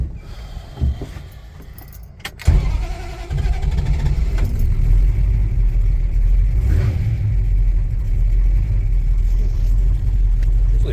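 A car, long unused with rodent damage through the shifter boot, cranks briefly then catches and settles into a steady, close idle rumble with light revving.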